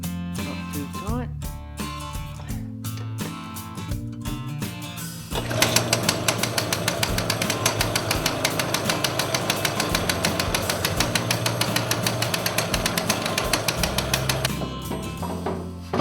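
Victa Imperial cylinder lawn mower running after renovation, its small engine giving a steady, fast, loud mechanical chatter that holds at an even pace for most of the stretch, with a lighter rumble before it builds.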